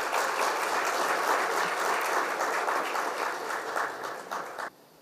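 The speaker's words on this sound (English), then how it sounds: "So may we have a big round of applause for architect Shubhra Raje." An auditorium audience applauds an architect at a celebration event, dense continuous clapping that holds steady for several seconds, then thins and cuts off abruptly near the end.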